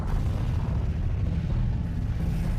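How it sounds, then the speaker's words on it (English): A sound effect of an asteroid impact explosion: a dense, loud, sustained low roaring rumble that fills the whole moment without a sharp initial crack. "This created a tremendous explosion"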